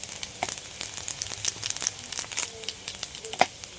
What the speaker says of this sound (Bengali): এই মাঝখানটা ফাঁকা করে একটু তেল দিয়েছি ওর মধ্যে দিয়ে দিচ্ছি পাঁচফোড়ন অল্প করে